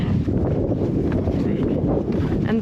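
Strong wind buffets the microphone outdoors on a hiking trail in the Badlands, a dense, loud low rumble that never lets up, with a voice faintly present beneath it.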